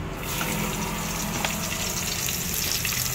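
White onion frying in a pan over a low gas flame while being stirred, a dense, continuous close sizzle that hisses evenly throughout with no speech.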